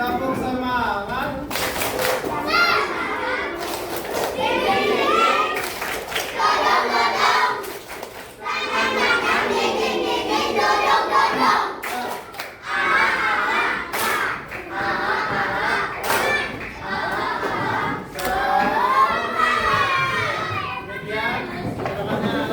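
Schoolchildren in a classroom perform a spirit clap, with bursts of rhythmic clapping broken by pauses and mixed with their loud chanting voices.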